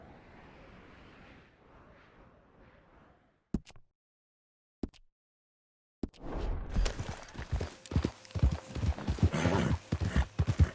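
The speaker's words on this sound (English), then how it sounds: "Ain't you a good horse?" A horse's hooves clip-clop in a rhythmic run of sharp, loud strikes that start abruptly after a quiet stretch with a few isolated knocks, while the horse is driven to work.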